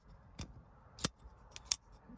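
Faint, sharp metallic tings from a Vosteed folding knife flipped open and closed, about five quick clicks spaced irregularly over a quiet background.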